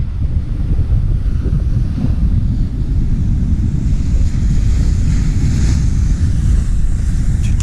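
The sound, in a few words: strong wind on rocky shore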